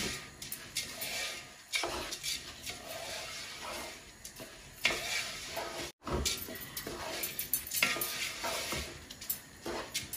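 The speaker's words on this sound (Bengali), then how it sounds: "এখন আমি 2 থেকে 3 মিনিটের মতন একটু নাইড়া নিব।" A spoon stirs Sylheti kheer in a pot, giving close, uneven scraping and swishing strokes with a soft sizzling hiss underneath and a brief break partway through.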